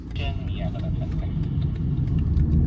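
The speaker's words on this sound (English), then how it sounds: "You can definitely feel the engine sound, and it's a very sporty sound in my opinion." A 2025 BMW 330i M Sport's engine hums low and steady from inside the cabin while driving, a constant mid-range drone with a voice talking over it.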